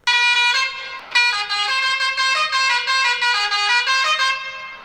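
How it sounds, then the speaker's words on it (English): A loud, brassy multi-tone Indian truck horn blares almost continuously, with a brief dip near the start and a warbling, musical pattern throughout. "you should be hearing an Indian truck horn right now"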